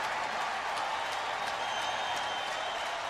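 A stadium crowd of over 45,000 at Turner Field in Atlanta gives a sustained ovation for Orioles star Cal Ripken, a steady wash of applause and cheering with scattered sharper claps.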